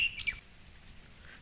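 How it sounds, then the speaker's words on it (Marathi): A few faint, high bird chirps from trees right at the start, then a quiet outdoor hush beside a rice field being sown. "पक्ष्यांची पण बरीच अशी किलबिल किलबिल सुरू आहे"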